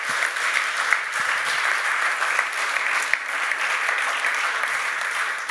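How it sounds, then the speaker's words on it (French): Steady, full audience applause at an awards ceremony, dense, continuous clapping from many hands filling the hall at even loudness. "Et on peut évidemment les applaudir."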